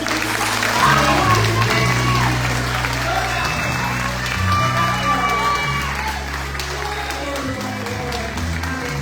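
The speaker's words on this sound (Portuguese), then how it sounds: "Eu quero ouvir agora uma salva de palmas para Jesus" Sustained applause and cheering from a large crowd at a Christmas cantata, loud and continuous throughout, with scattered shouts rising over the clapping.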